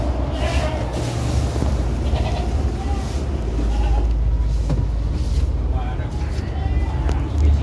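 A pregnant Doro goat bleats repeatedly in short, fairly close calls over a steady low rumble of background noise, with a person talking throughout.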